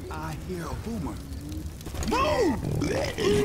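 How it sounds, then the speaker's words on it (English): Boomer zombie grunts in Left 4 Dead 2, low guttural bursts rising in the second half amid game noise and overlapping voices. "I hear a boomer."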